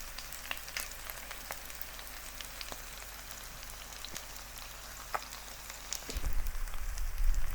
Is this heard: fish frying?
yes